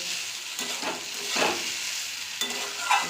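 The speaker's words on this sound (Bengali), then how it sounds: "ডালগুলো আমি ভালো করে আলু পেঁপের সাথে কষিয়ে নেব মশলার সাথে" Mung dal sautéed with potato, papaya and spices in a pan, steady close sizzling with repeated scraping stirs of the spoon and a few sharper knocks against the pan.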